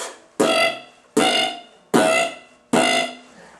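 Four evenly spaced beatbox lip oscillations, each a loud buzzing, horn-like vocal burst that decays over about half a second, made by a human voice close to the microphone with no speech.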